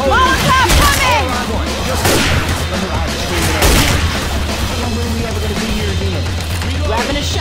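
In the video game Left 4 Dead 2, a Molotov cocktail is thrown and explodes into a loud boom and roaring fire amid constant gunfire and chaotic game noise, with players talking and shouting throughout.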